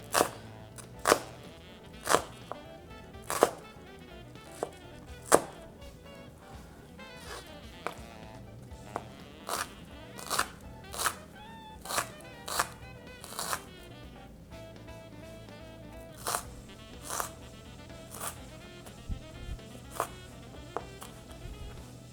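A dull kitchen knife chops onions on a board with a steady series of sharp, separate knocks and thuds, fairly faint and regular, with little talk.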